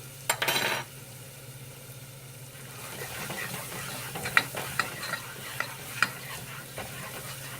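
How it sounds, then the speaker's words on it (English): Tomato paste being stirred into an oxtail stew pot: a spoon scrapes and taps against the pot over a low steady sizzle, after a brief loud clatter at the start; no voices. "you want to mix that in really well before you add in anything else, just to break down that tomato paste"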